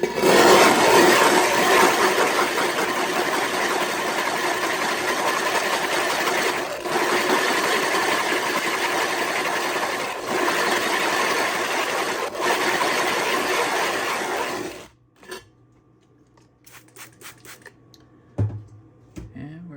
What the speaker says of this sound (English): ground down through all that abrasive and gotten it flat